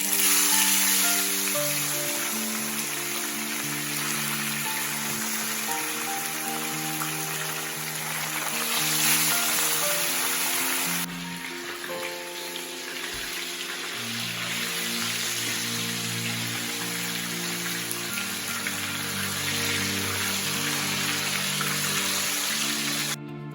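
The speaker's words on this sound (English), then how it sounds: "So now I will be frying the fish. The oil is so hot." A steady, dense crackling sizzle of fish frying in hot oil continues throughout, with a low hum underneath and no voices.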